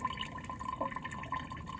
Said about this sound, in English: put this stirring rod in the lip of the beaker, and we're just going to pour the liquid out